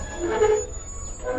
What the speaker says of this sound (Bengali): বাংলাবন্ধা এক্সপ্রেস দুপুর 3:13 এসে থেমে গেল রানীনগর রেলওয়ে স্টেশন।